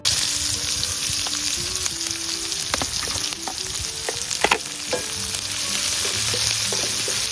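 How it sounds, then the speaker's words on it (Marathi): Onion fries in a tempering of hot oil with asafoetida and green chillies, a dense continuous sizzle up close with occasional spatula scrapes and taps, no talking. "आता फोडणीमध्ये हिंग टाकू आणि कांदा टाकून कांदाही चांगला परतून घेऊ"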